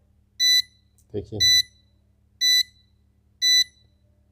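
A BM730 3-in-1 voltage, ampere and watt meter sounds its threshold alarm as a series of four short, evenly spaced electronic beeps, loud and close, while someone speaks briefly between them.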